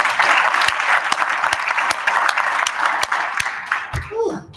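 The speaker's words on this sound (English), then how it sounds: "We could give the board another round of applause." An audience at a school board meeting claps steadily in a dense, continuous round of applause that fades out near the end, followed by a voice starting to speak.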